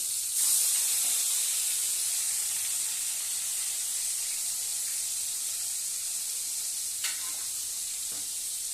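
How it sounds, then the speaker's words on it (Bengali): Turmeric-rubbed fish frying in hot oil, giving a steady loud sizzle and hiss with a few sharp spits and pops near the end, with no talking. "আর এই মাছগুলো জানো তো ভীষণ ফোটে, আমার তো ভয় লাগে ভাজতে। দেখো ফোটা এবার শুরু হবে।"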